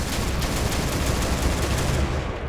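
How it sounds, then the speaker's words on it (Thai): A minigun from the Extraordinary Weapons mod in Minecraft fires a dense, unbroken stream of rapid shots, loud and close, for a couple of seconds with no talking. "อันนี้ ก็ เป็นทางด้านของปืนมินิกัน นะฮะ"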